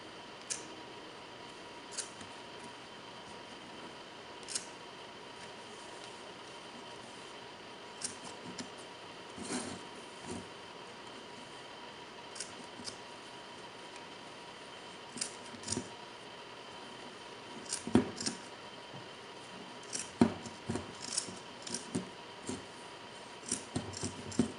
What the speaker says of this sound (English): I'm going to go ahead and trim off the excess and clean this up a little bit.